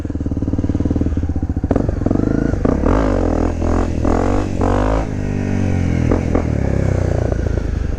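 A 2015 Honda CRF250L motorcycle engine revs close up, its single-cylinder note climbing and falling through several quick throttle blips over a steady idle.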